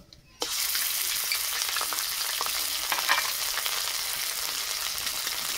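Ginger paste hits a hot pan and sizzles steadily in a dense, continuous fry with faint crackles and stirring, close and fairly loud throughout with no talk.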